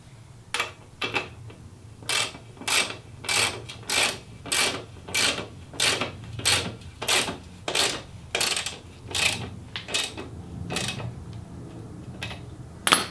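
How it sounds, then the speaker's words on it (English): Ratcheting clicks come as regular close bursts, about one per second, as the rear wheel of a Yamaha WR125X motorcycle is tightened, over a low background hum. "we're simply going to tighten up the rear wheel this time."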